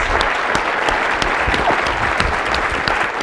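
Audience applause at the close of a lunchtime public conversation event with Congressman Kevin McCarthy, dense steady clapping from a crowd filling the room.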